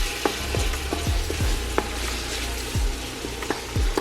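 Sausage and red pepper flakes for a low-carb Zuppa Toscana soup sizzle in a pan as a utensil stirs, scraping and tapping in irregular strokes over a steady close frying hiss.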